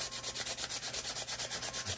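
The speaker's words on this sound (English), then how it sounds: "we're going to do some sanding" Sandpaper rubs back and forth over a model figure in quick, even strokes, a faint close scratchy hiss pulsing in steady rhythm without speech.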